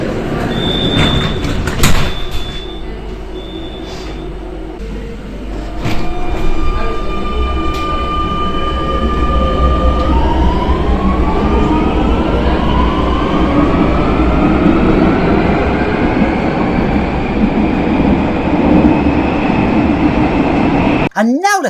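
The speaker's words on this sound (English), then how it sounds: "You still have to press a button to open the train doors." A Barcelona train with button-operated doors sits with beeping door signals before pulling away, its loud rising motor whine and rumble building as it runs, with voices faintly underneath.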